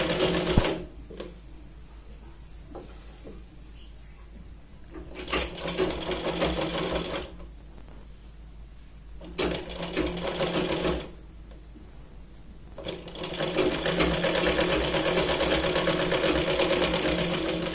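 Sewing machine stitching the back side of a Punjabi dress sleeve, running in several steady bursts separated by brief stops, close and clear over a low hum.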